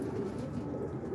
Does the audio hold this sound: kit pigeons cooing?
yes